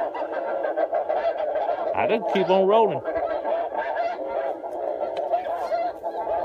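Geese honk loudly and close by during a goose hunt, with a strong cluster of calls in the middle while people talk throughout.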